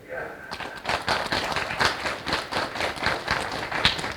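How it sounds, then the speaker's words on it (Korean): Audience applause during a Korean talk on the fourth industrial revolution and future jobs, with scattered hand claps starting after a quiet moment and continuing steadily, mixed with some murmuring voices. "이때 한번 박수 쳐야 돼요"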